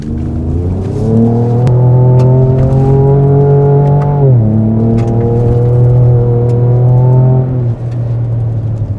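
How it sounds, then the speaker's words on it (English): A Ford Ranger Raptor drives along a dusty gravel road, its engine holding a loud, steady drone that dips briefly as it shifts, with tire crunch and small knocks underneath throughout. "A little bit of good, dusty gravel road driving."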